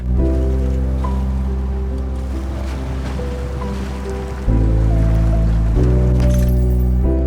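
A truck splashes into swamp water in an off-road truck-driving game, with a steady rushing, churning wash of water over a low engine drone that swells louder partway through.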